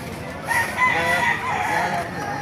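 A rooster crows once at the Baliuag chicken market in Bulacan, a full cock-a-doodle-doo rising and trailing off at moderate distance, with faint market chatter behind.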